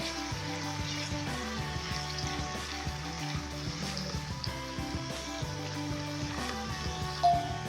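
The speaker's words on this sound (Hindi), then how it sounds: "प्याज हमारा भुनना शुरू हो गया है, हमें इसको गोल्डन ब्राउन सा करना है।" Steady sizzling of onions frying in a pan, a continuous crackle with faint stirring clinks, close and moderately loud, no talking.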